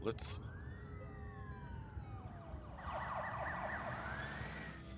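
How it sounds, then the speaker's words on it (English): Police sirens wail continuously in the video game SimCity, one rising and falling tone joined by a second warbling siren, fairly distant with low rumbling background noise. "I hear sirens."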